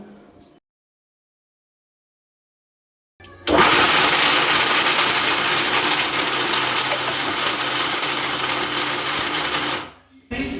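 After a short near-silence, a mixer grinder starts up grinding lamb lungs: a loud, steady whirring roar that holds for about six seconds, then cuts off abruptly.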